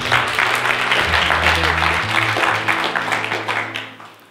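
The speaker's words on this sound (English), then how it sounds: "Can we give a round of applause and welcome?" Church congregation applauding during a Sunday morning service, a steady wash of clapping at full strength that tapers off toward the end, with a low musical hum or organ tone underneath.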